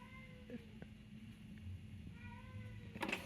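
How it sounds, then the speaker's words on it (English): House cat meowing indoors, a few faint short calls over a low background hum, with a brief sharper noise near the end. "that is my cat."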